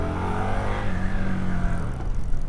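An Indian Scout 101 second generation motorcycle engine accelerates in sport mode on a demo ride, a close rumbling roar rising in pitch, then easing off, with no talk.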